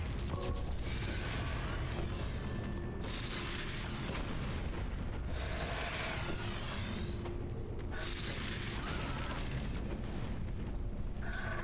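Repeated booming grenade explosions in the video game Doom 3, loud and continuous, layered over mechanical clanking and rising whines, with no voices.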